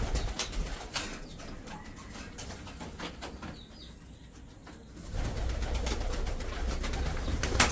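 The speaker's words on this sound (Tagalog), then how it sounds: "May lahing ice pigeon yan." Pigeons, including an ice pigeon, coo in a loft where birds are nesting with eggs, with soft repeated coos and occasional wing flutters over a steady background noise.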